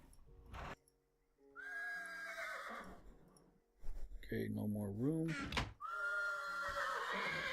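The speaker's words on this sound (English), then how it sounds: "Boy, those horses are loud." Horses in Minecraft neighing loudly in repeated whinnies, with hoof clip-clops and a chest-like thud between them; someone speaks briefly over the game sounds.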